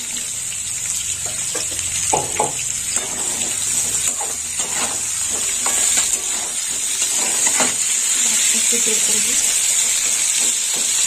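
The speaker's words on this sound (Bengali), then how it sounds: "এবার পটলগুলো ভেজে নেব।" Long slices of pointed gourd (potol) fry in oil, a continuous close hiss and sizzle with intermittent clattering stir noises and bubbling bursts throughout.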